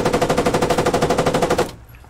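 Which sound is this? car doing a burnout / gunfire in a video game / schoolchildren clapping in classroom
gunfire in a video game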